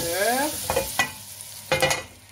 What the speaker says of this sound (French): Mettez le beurre au fond de la poêle, bien chauffé.